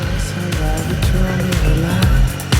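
A Triumph 765 Street Triple R motorcycle engine hums and pulls as a ride gets underway, a close, steady mechanical drone with rising and falling tone.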